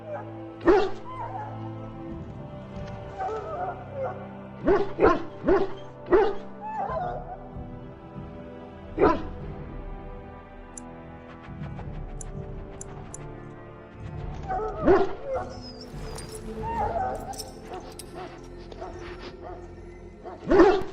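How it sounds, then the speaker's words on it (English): A Mabari war hound in the Dragon Age Origins video game yelps, barks and whimpers in repeated short bursts, close and fairly loud over a low game music bed, with a few quieter cries between. "Now I can treat the dog properly, poor fella."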